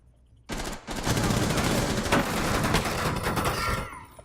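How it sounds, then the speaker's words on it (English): Sustained rapid gunfire rattles down a hallway in the Rainbow Six Siege video game, a close, dense burst of shots that starts abruptly and runs for several seconds before trailing off. "just firing down the hall"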